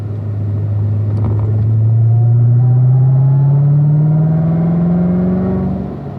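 A car accelerates hard out of a curve onto a race-track straight, the engine note climbing steadily as it pulls through the gear, loud and close with no talk.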